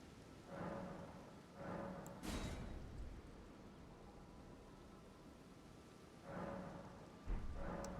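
Soft, steady rainfall in the Elden Ring world around Albinauric Village, a faint hiss throughout, punctuated by several brief muffled thuds and rumbles, with one sharper crack near the end.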